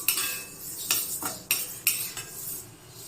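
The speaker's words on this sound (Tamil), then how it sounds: "கொள்ளை போட்டு வறுத்து எடுக்கலாம்" A metal spoon scrapes and clinks against a pan while horse gram is roasted and stirred, with several sharp scraping strokes in a quick, uneven rhythm and a faint sizzle beneath.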